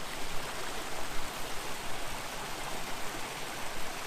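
Mountain stream flowing out of a lake in the Hilton Lakes basin and heading downslope, a steady broadband rush of moving water with a soft pulsing murmur, moderately near and with no voices.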